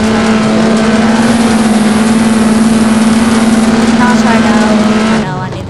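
A stage 4 nitrous big block race car engine drones at a loud, steady high rev for about five seconds, then the pitch sags and the roar drops away at the end.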